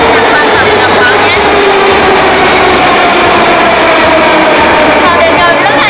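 Moscow metro subway train rumbling steadily through an underground station, a loud continuous roar with rising whine throughout, no speech over it.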